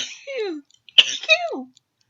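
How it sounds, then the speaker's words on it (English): A person sneezes from pepper tickling the nose: a drawn-in breath, then a sharp burst followed by a sliding vocal tail, close and loud against silence. "Oh, the pepper made me sneeze."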